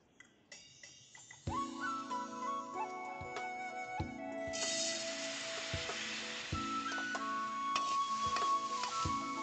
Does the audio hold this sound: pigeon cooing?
no